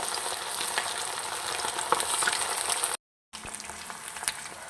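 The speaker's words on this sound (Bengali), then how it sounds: "অল্প অল্প করে আমি এগুলো ভেজে নেব" Chicken pieces for chilli chicken sizzle in hot oil in a steady crackling hiss with occasional stirring clicks, broken by a brief silent gap before the frying resumes.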